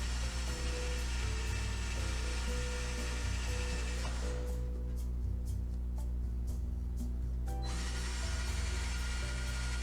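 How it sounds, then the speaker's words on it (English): A power drill bores holes into a wooden bench. Its motor whines steadily, drops away briefly around the middle and then starts up again. The sound is close and alone, with no talking. "I'm going to drill all 3 holes before I attach the screws to the wood bench"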